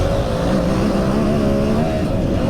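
A KTM 950 Super Enduro motorcycle accelerates hard on a track, its engine a loud, steady roar climbing slightly in pitch over the whole stretch, close up and without pause.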